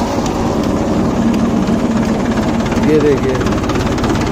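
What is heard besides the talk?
Mahindra 265 DI tractor engine running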